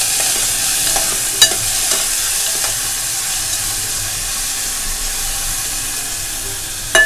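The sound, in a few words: onion sautéing in hot oil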